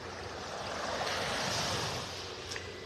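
Ocean surf on Vanderbilt Beach in North Naples, Florida, makes a steady, broad wash of breaking waves mixed with light wind noise, with no talking.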